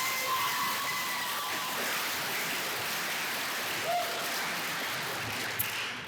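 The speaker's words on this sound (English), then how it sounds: "Can we get one more round of applause for Adam Cohen" Steady round of applause from a gala audience at a graduation celebration, a dense even wash of clapping that fills the room for several seconds without pause.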